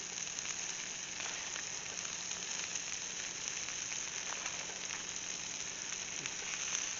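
Butter sizzles on a steak with garlic and rosemary in an Ooni pizza oven, a steady, even crackling hiss at moderate level with faint pops and no talk.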